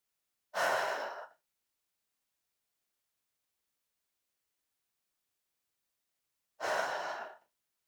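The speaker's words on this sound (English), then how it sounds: "You may close your eyes as we take a few breaths here." Two slow, deep breaths during a yoga session, each a soft airy exhale about a second long and close to the mic, separated by several seconds of complete silence.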